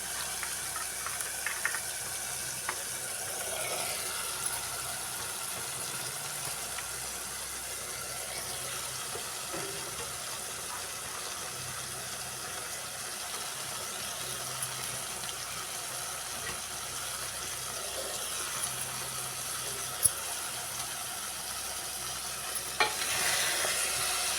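Broad beans fry with softened tomato, onion and green chilli in a pan, giving a quiet, continuous sizzle with occasional stirring scrapes and a few sharper clinks near the end.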